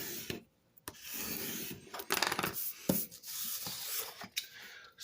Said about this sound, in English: Burnish for excess glue.